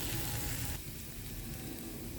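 Cooked beef sizzling in a pan of spiced oil as it is stirred in, a steady loud hiss that eases slightly after the first moment and continues evenly, close up with no talking.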